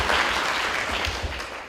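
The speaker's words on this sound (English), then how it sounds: "give yourself a round of applause for doing the right thing tonight" Audience applause at a health innovation forum on brain health, a steady wash of clapping from a crowd that holds at an even level throughout with no talking over it.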